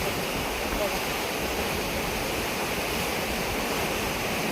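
Steady, dense rush of floodwater over submerged farmland, a continuous broadband roar like a strong current flowing close by, unbroken throughout.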